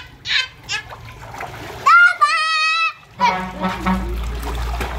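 Water splashing in bursts while children shout and chatter nearby, with a short honking squeal in the middle.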